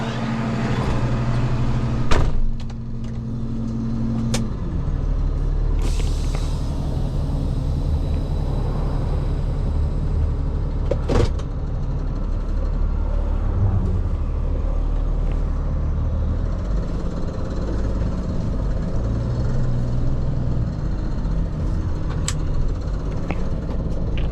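A truck rolls off a road shoulder into a driveway, a steady close engine rumble with a few sharp knocks and clunks scattered throughout, no talk.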